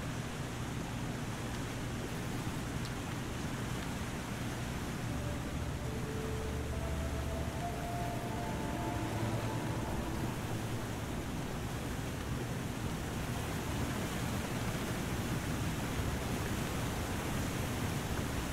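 Constant broadband rush of a waterfall in the survival video game The Long Dark, steady and even throughout with no talking over it.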